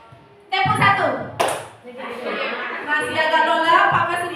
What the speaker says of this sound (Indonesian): CGP tepuk tangan 1. CGP tepuk tangan 2.